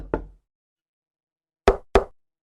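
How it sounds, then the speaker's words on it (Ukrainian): Three sharp knocks on a door, one alone followed after a pause by a quick pair, close and clear with silence between. "Раптом у двері хтось постукав."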